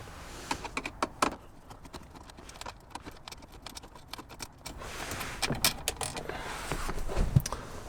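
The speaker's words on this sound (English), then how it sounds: "we're going to remove these two top screws from the radio plate" Screws being taken out of the radio plate in a Land Cruiser 100 Series dash: close, irregular small clicks and light scraping taps, busier at first, then sparser rattles and handling noises.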